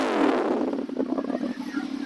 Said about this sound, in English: I'm only revving it to about half what it revs to, because the motor's a little cool.